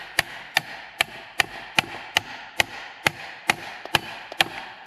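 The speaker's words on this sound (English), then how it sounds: "Impact wrench." An impact wrench works on the starting clutch of an antique Caterpillar RD-4, giving about a dozen sharp, evenly spaced hammering clacks over a continuous buzzing rattle, close and loud with no talk.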